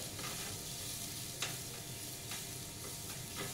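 Onions sweat in a pot in a French kitchen, giving a steady soft sizzle with occasional stirring scrapes, quiet and close, with no talk over it.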